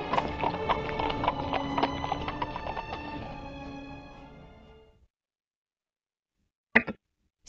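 Horse hooves clip-clop in quick uneven steps alongside a neigh, loud and close for about five seconds before fading out, with a brief sharp sound near the end.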